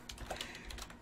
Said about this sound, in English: I'm typing in Discord.